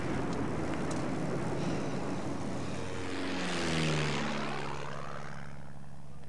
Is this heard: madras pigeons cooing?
no